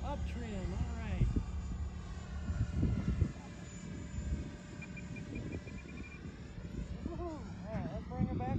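An FMS 64mm electric ducted fan F-16 model jet at full throttle gives a steady high-pitched whine with shifting tones as it flies past outdoors. People talk over it.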